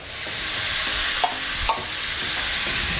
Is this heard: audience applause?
no